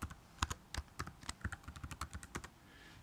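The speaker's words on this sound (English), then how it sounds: "So if I type in his name first of all," Quick, irregular keystrokes clatter on a computer keyboard as a name is entered, crisp and close with no voices over them.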